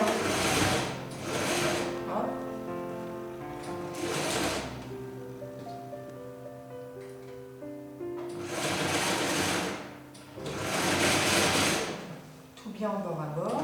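A sewing machine stitches a piped pocket in several long bursts of whirring, fast-needle running separated by pauses, close and loud, with someone talking steadily throughout.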